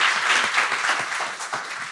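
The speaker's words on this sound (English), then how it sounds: "let's give our facilitator a round of applause as well" An audience gives a panel and facilitator a round of applause at the close of a discussion event, a loud, full burst of clapping lasting about two seconds with a slight dip and swell.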